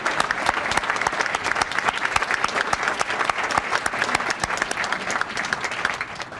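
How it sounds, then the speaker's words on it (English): An audience at a Rotary Veterans Day luncheon applauds in a sustained, dense burst of clapping that holds steady for several seconds. "Please join me in a round of applause and thank them all for coordinating this wonderful event today."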